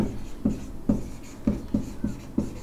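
Chalk or marker strokes on a classroom board during a lesson, a series of short scratchy taps and scrapes in an uneven rhythm, fairly quiet and close.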